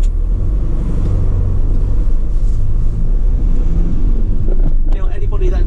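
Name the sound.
van engine running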